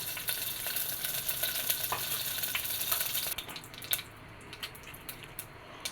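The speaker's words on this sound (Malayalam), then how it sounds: "ഒരു മൺചട്ടി അടുപ്പത്ത് വെച്ചു നന്നായി ചൂടായിട്ടുണ്ടതിലോട്ട് ഒരു രണ്ട് സ്പൂൺ വെളിച്ചെണ്ണ ഒഴിച്ചു കൊടുക്കാം" Coconut oil, about two spoonfuls, poured into a well-heated clay pot on the stove for a fish curry, giving a steady hiss and crackle of frying that eases to a quieter sizzle with a few faint pops partway through.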